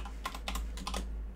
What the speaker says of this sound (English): Someone go ahead and start typing this in, by the way.